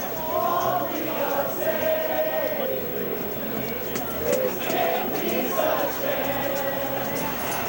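Rally crowd chanting in unison, rhythmic massed voices at moderate distance with a steady crowd roar beneath and a few louder shouted peaks.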